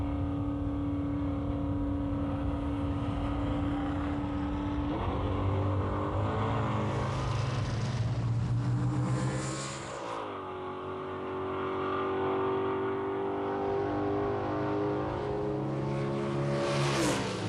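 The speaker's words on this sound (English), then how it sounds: "Bob George's Challenger 440 takes on Stacy Blasiot's Chevelle 307." At a 1992 muscle car drag race, a Challenger 440 and a Chevelle 307 rev and roar off the line. Two V8 engines drone loudly through gear changes and dip mid-run, then swell again as they pull away.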